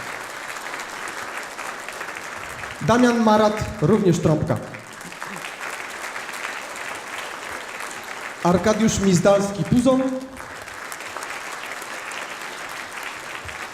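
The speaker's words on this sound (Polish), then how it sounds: "Dużo brawa." Concert audience applauds steadily throughout a band-introduction at a spring concert, broad even clapping filling the room while someone speaks over it twice, naming musicians.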